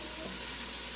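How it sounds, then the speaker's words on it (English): Onions, garlic and mushrooms sizzle steadily in grapeseed oil while being stirred, a dense, even hiss at close range with no pauses. "onions, garlic, mushrooms, and the grapeseed oil. So I'm stirring this around"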